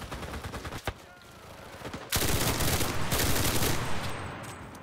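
A machine gun fires in the World War II video game Enlisted, long rapid bursts of loud automatic gunfire with a brief pause between them, plus other shots crackling around.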